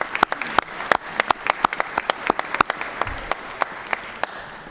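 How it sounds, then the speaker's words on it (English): Applause in a legislative chamber during a session, with many sharp individual claps standing out above a steady wash of clapping that holds at an even level throughout. "It's okay to clap"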